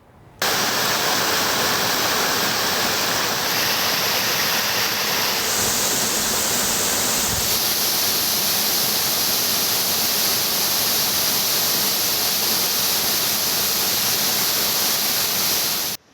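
Chinna Suruli waterfall in Theni district, a steady dense roar of falling water heard up close, loud and unbroken throughout with no voices.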